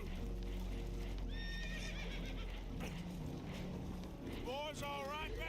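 Spooked horses whinny and neigh aboard a damaged boat in the video game Red Dead Redemption 2, high shrill calls rising over a constant loud rush of water and wind, with hoof clatter and game voices underneath.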